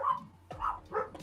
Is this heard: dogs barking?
yes